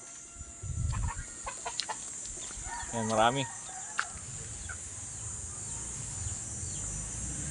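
Gamefowl hens cluck in short bursts around a farmyard, one louder call standing out midway, with someone speaking briefly in the background.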